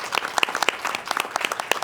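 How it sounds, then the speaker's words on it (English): An audience at a school district board meeting claps in a brief burst of applause, a scattered patter of hands that stays moderately loud throughout. "So everybody, you can give her a round of applause."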